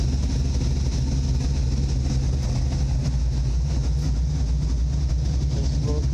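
A car idling in a garage with a new Dynamax muffler and 2.5-inch exhaust system, a steady low rumbling drone that holds an even pitch throughout, loud and close with no talking.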